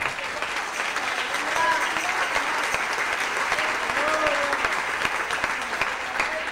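Applause at an evangelical church service rises from a congregation, a dense steady clapping that continues for several seconds with scattered voices mixed in.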